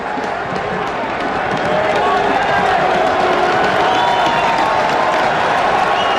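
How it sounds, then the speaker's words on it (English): A football crowd roars at Taylor Field during a Roughriders game against the Eskimos, a broad sustained cheer that swells a little after the start and stays loud and even to the end. "A great crowd at Taylor Field, something to cheer about at last."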